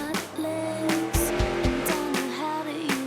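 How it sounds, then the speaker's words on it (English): A drag race engine runs on a dyno with no mufflers, a loud, close, roaring drone with shifting pitch, punctuated by sharp bangs and pops, and a voice briefly audible beneath it. "That was our engine."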